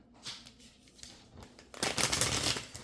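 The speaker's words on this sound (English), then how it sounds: "I love me a good shuffle." A new, stiff deck of tarot cards is shuffled by hand, quiet riffles and rustles at first, then a louder, denser flurry of card flapping near the end.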